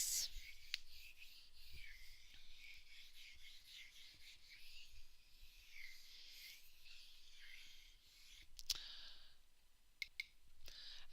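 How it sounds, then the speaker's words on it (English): Quiet rubbing and wiping of an eraser across a classroom board, with soft continuous scuffing strokes and a few faint clicks, heard alone at low volume. "Let me erase this"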